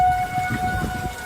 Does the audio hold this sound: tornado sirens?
yes